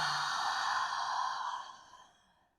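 A long, soft breath is exhaled through parted lips during a yoga flow, breathy and close, swelling briefly and then fading to silence over about two seconds.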